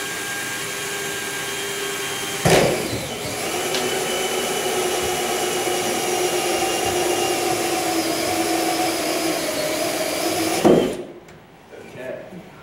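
A power drill bores a 1.5 inch hole through a plastic rain barrel, a loud, steady whirring grind that starts abruptly, holds for about eight seconds and cuts off, with a voice speaking at the end.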